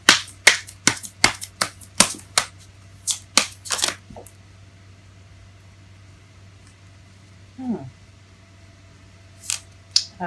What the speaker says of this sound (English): It fell face up as I was shuffling.